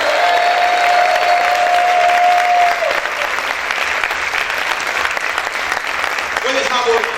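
A church congregation claps steadily and loudly, a dense crowd of hands sustained throughout, with a faint tone fading out early and a brief voice near the end.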